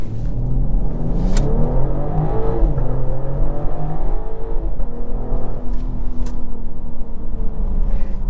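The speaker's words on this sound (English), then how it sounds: "the M Sport exhaust has so much character and sound out the back" A 2024 BMW X6 xDrive40i engine revs hard and climbs through gears, the M Sport exhaust growling and rasping loudly up close with rising and falling pitch.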